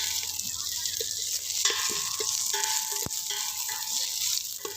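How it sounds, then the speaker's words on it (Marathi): Chopped onion and whole spices such as bay leaf sizzle and fry in a pot over a wood-fired stove for chicken dum biryani, giving a steady, moderately loud hiss with occasional stirring clinks. "चिरलेला कांदा लालसर होऊस्तर आपण इथे परतून घेऊया"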